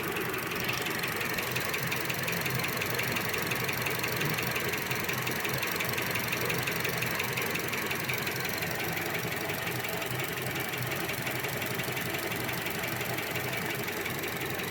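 A car engine runs after replacement of its camshaft timing control valve, a loud, steady, close mechanical drone with a rattling, knock-like clatter throughout and no voices.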